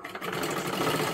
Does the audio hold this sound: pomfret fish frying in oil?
no